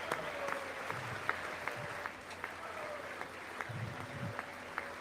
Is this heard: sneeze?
no